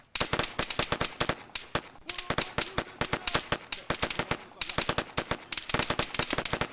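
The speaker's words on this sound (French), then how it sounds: "ils sont au pistolet tellement ils ont plus de balles" Rapid, dense gunfire in a French multiplayer shooter game, sharp close shots crackling in fast bursts with short gaps, a steady volley of pistol fire dominating throughout.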